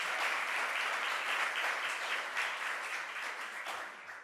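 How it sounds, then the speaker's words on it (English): Audience applause at a cost of living announcement by a governor, a dense, steady burst of clapping close and loud for about four seconds, fading slightly toward the end. "Let's give him a round of applause."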